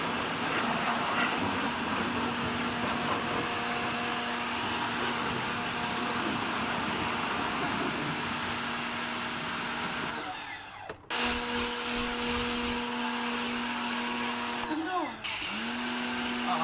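A DYLECT electric pressure washer runs as a loud, steady motorized whine with a constant hum, cutting out briefly around the middle before restarting, and dipping again near the end.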